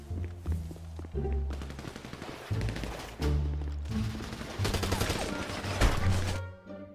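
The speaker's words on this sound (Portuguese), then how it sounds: "rajada de tiro" Rapid machine-gun bursts and scattered gunfire in a zombie survival roleplay match of GTA V, loud and repeated in several volleys with short gaps, while players talk over the shooting.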